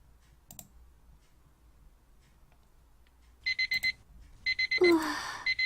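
An alarm clock rings in the video game Phantasma, sharp repeated electronic beeps in quick bursts, loud and close, starting after a few quiet seconds with a thump and rustle among them.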